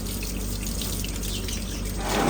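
Steady rush of water poured and splashed over an animal being bathed at home, continuous and fairly loud, swelling slightly at the end, with no talking.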